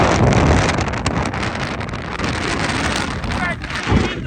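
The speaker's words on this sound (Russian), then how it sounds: "Прям сильный, холодный ветер" Strong, cold wind gusting across a winter mountain summit in the Altai, buffeting the microphone with loud, uneven roaring surges and brief lulls throughout, with no voices over it.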